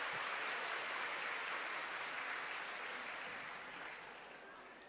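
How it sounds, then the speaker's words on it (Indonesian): Audience applause at a university graduation ceremony with religious scholars on stage, a dense, steady clapping from a large crowd that holds strong and slowly fades toward the end. "Tepuk tangan untuk beliau."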